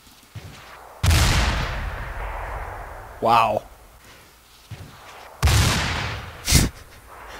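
Gunfire in a video game comes as a few heavy, booming shots with long decaying tails, spaced seconds apart, loud and close, and one person briefly exclaims between them.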